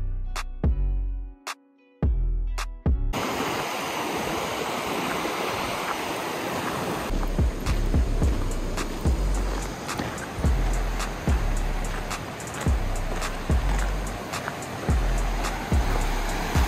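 Loud, steady roar of water rushing over a dam into a reservoir, heard outdoors and close, with recurring dull thumps cutting through the continuous wash.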